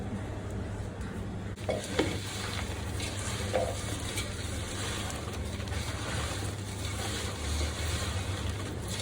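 Oil and yogurt being stirred into a chicken biryani marinade for a large batch cooked on a traditional wood-fired stove, a soft continuous wet churning and squelching under a steady background hiss, with no speech.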